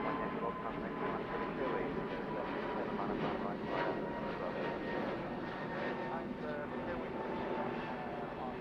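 A Scandinavian A320neo jet departs from runway 09 right at Heathrow, its engines producing a continuous, moderately distant roar while a voice talks over it.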